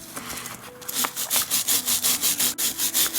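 A brass brush scrubs a cuckoo clock part coated in toothpaste, a rhythmic back-and-forth rubbing of about a dozen close, steady strokes that follows a brief quieter scrape, with no talking.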